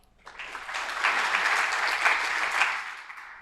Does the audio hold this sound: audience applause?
yes